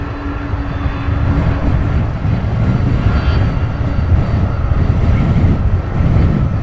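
A jet airliner taxis at Luton Airport, producing a steady, loud engine roar with wind rumble that holds throughout without a break.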